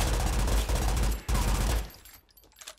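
Heavy, sustained gunfire from a first-person police shooter game (RICO) dominates, with a brief break before another dense burst, then it thins out into scattered, fainter shots.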